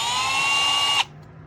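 A small drill bit whines steadily into a rubber free-dive fin foot pocket, a close, loud, continuous buzz that stops abruptly after about a second.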